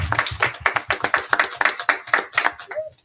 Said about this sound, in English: So I want to do a round of applause for y'all.